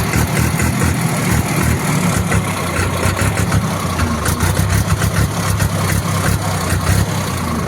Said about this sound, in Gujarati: આપણે એક્સિલેટરનું પેડલ દબાવીને એટલે તરત ટ્રેક્ટર પિકઅપ લઈ લે, એટલું ક્વિક રિસ્પોન્સિવ એન્જિન છે આનું